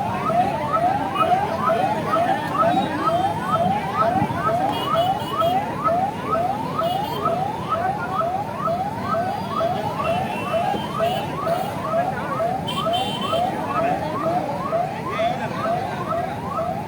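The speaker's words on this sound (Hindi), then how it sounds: "आप देखिए किस प्रकार से एम्बुलेंस निकल रही" An ambulance siren wails continuously in a fast, repeating up-and-down pattern while passing through a traffic jam, loud and steady against a bed of street noise.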